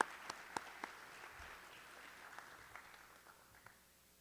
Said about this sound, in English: Please, if you have been in the IPC, stand up and receive a round of applause.